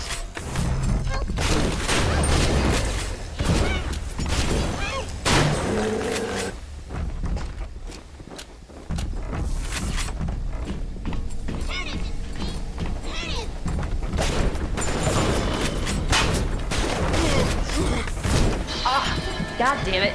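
Bomb blasts and gunfire in the BioShock video game, loud crashing impacts and thuds in quick succession over a continuous busy combat din, with a brief lull partway through.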